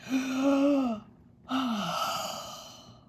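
A voice imitates a long, drawn-out yawn, rising and then falling, followed after a short pause by a second, breathier yawn.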